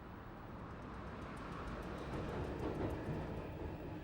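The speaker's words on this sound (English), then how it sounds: "We're on board a train of brand new 1995 stock, heading in a southbound direction" A brand-new London Underground 1995 stock tube train running southbound on the Northern Line: a steady low rumble and rolling rail noise heard from on board, with faint rhythmic clicks, fairly quiet and continuous, with no voices.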